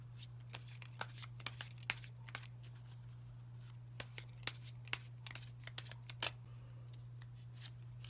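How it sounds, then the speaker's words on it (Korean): Tarot keyword cards being spread out on a table, a series of sharp papery flicks and slaps in an irregular rhythm, close and quiet over a low steady electrical hum, with no talk. "키워드 카드 펼쳐서 한번 보겠습니다"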